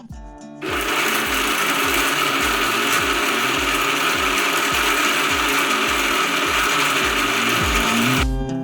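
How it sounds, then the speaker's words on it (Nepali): An electric grinder whirs loudly as Dashain spice masala is ground a second time, a steady close mechanical roar with a rapid rattling rhythm that starts abruptly after a brief quiet and stops near the end. "तर यो पुरै नभएको भएर फेरि हामी पिस्छौँ यसलाई"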